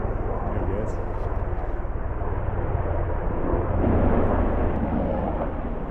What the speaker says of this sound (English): It was none other than a Black Hawk helicopter.